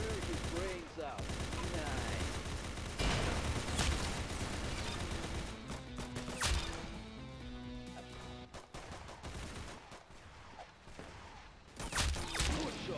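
Rapid gunfire from the Roblox shooter game Arsenal, with dense bursts of shots and automatic-weapon rattles filling most of the stretch, loud and close throughout.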